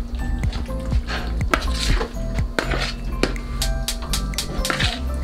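A utensil scrapes and clinks against a bowl while ingredients with minced garlic are mixed, giving rapid irregular taps and scrapes close by.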